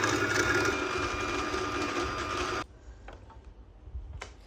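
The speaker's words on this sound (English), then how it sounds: "So I'm just sewing everything in place like I should." A sewing machine stitching fabric for a summer dress, running as a steady, loud mechanical whir for a few seconds before stopping, followed by a couple of faint clicks and handling noises.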